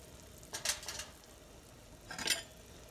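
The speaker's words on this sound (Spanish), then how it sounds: "Le mueven un poquito para que se mezcle bien la sal" Ground beef in a pan being stirred with a utensil, two short scraping, sizzling strokes about a second and a half apart over a low background hiss.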